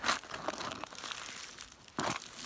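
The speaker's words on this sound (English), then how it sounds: "You can hear that ice crunching." Footsteps crunching over iced-over ground after an ice storm, a series of crisp, crackling crunches at close range, the loudest one near the end, with no talking.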